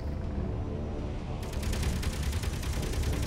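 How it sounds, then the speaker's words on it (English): Turret gunfire in the Space Engineers video game, a dense rattling fusillade of rapid shots that thickens and grows louder about halfway through, with no voices. "Oh, that's a lot of gunfire."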